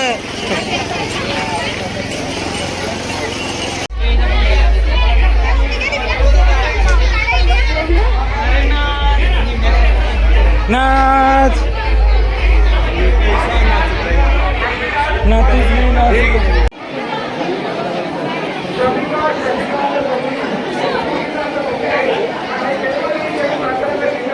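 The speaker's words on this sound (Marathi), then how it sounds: "याची गर्दी गर्दी बघा एकविरीला पण तेवढी गर्दी नसेल" A dense crowd chatters at Ekvira temple, a continuous babble of many voices with a heavy low rumble through the middle section and close talk on top.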